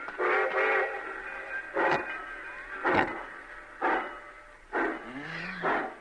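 A train rumbles and clanks steadily, with repeated loud bursts of mechanical noise and a sustained whistle-like tone, moderately close.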